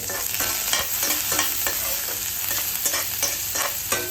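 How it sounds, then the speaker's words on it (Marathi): Finely chopped green chillies sauté in hot oil with mustard seeds and hing, a dense close sizzle broken by frequent rhythmic scrapes of a spoon stirring the pan, no voices. "यामध्ये मी हिरव्या मिरच्या घालते बारीक कट करून घेतलेल्या मिरच्या तेलामध्ये परतून घ्यायचे"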